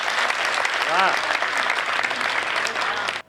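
Audience applause at a Hindi kavi sammelan poetry gathering at Lucknow University, dense clapping filling the whole stretch with a brief voice rising through it before the clapping cuts off sharply at the end.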